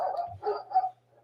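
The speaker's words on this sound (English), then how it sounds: "Excuse the barking." A dog barks three times in quick succession indoors, moderately close and fairly faint, followed by a soft trailing whimper.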